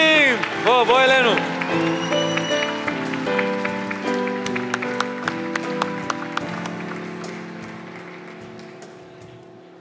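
Audience applause at a national youth Bible quiz in Israel, broad clapping running steadily under a loud amplified voice and music-like tones, gradually fading toward the end.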